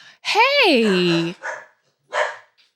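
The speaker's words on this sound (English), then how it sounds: "that's my dog" A dog barks and yelps loudly up close, one long drawn-out bark followed by two shorter ones, with a person's brief word heard alongside.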